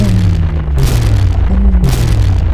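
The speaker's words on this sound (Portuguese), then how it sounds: "Uma sequência interminável de explosões começou a ecoar pela região." Continuous deep rumbling booms rolling one into another, loud and close, with brief bursts of crackle on top.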